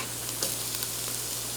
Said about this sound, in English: We'll let the garlic cook with the onions just until it starts to get fragrant.